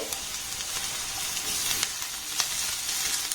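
Grated garlic and other ingredients fry in a pan for an egg and flour breakfast snack, a soft continuous sizzle with a few light stirring scrapes, faint and close, no speech.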